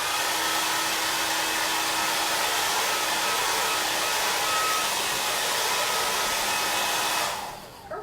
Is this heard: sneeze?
no